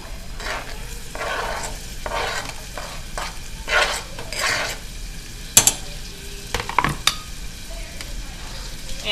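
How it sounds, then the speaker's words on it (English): Onions saute in oil in a pan, a soft sizzle under repeated scraping strokes and a few sharp utensil clinks near the end, with no talking. "I'm just gonna put the onions in here"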